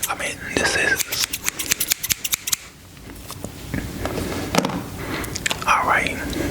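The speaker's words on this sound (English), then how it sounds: "The scissors." Barbershop scissors are handled close up, with a quick run of sharp metallic snips and clicks early on, then scattered handling noises and a soft whisper.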